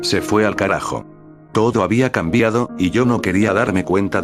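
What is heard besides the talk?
No everyday noise stands out behind the speech.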